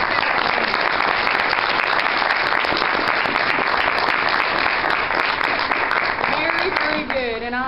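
Sustained, dense applause and hand clapping from a church audience at a vacation Bible school event, steady and loud throughout before tapering off at the very end.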